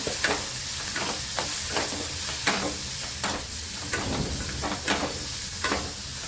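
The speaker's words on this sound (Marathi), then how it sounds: "लाल तिखट धने जिरे पावडर त्यानंतर परतून घेऊ" Red chili and coriander-cumin powder sautéed in a pan for a bell pepper curry: continuous loud sizzling with regular scraping strokes of a spatula roughly every half second throughout.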